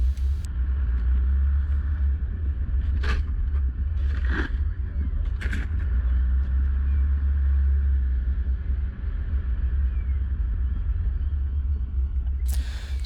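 A car driving through muddy holes on an outback bush track, with a steady loud engine rumble throughout and a few brief splashing or knocking bursts.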